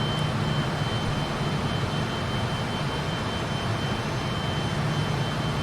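Jet engines of a Fokker 28 airliner in a flight simulator, a steady loud whine and rumble accelerating in climb, continuous throughout with no talk.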